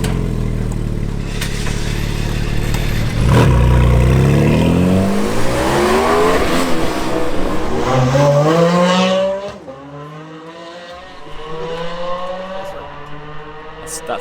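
Porsche race car on a timed lap at the Nurburgring: the engine screams loudly up through the gears with rising pitch sweeps, then drops away abruptly and continues more distantly as the car recedes down the track.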